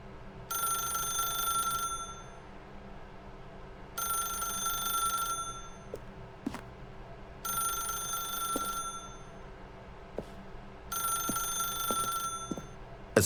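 A telephone ringing in the video game The Stanley Parable, four evenly spaced bursts of bright trilling bell, each about one and a half seconds long, with a few faint clicks between rings.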